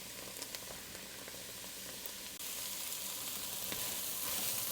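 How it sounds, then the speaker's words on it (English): Onions sauté in a pan for a homemade deep dish pizza sauce, making a soft, continuous sizzling hiss that grows slightly louder partway through, with no voices. "Our onions now have sauteed for about 5 minutes."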